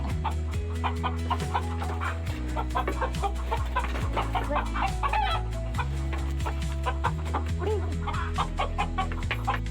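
A home-raised chicken clucks loudly and agitatedly while being caught in a village yard, with steady clucks running throughout alongside other continuous background sound.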